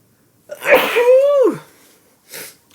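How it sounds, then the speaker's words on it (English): One loud, close sneeze from a single person, a sharp intake, then a forceful burst that trails off in a falling tone, followed by a brief softer breath or sniff. "Excuse me while I sneeze."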